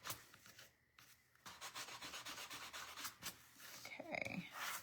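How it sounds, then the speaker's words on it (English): Hand sanding of a small craft piece for summer duck tiered-tray decor, quick repeated rubbing strokes in bursts, close and fairly quiet, with a brief pause near the start. "We're just sanding."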